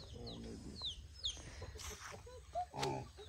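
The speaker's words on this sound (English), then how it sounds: "they have a lot of this kind of native chicken" Native chickens on a farm, some kept for fighting, give scattered clucks and short calls at close to middle distance, over a low background murmur.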